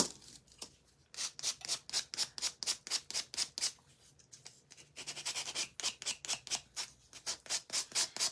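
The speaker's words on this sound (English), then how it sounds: "Let's sand this a little bit." A vintage frame is sanded by hand in rapid back-and-forth strokes, a raspy scratching rhythm up close that pauses briefly twice before it resumes.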